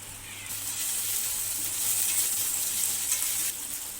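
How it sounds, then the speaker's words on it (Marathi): Steady loud sizzling of cashews frying in hot oil, a dense crackling hiss that swells briefly and continues without speech. "आता यामध्ये काजू परतवून घेऊया"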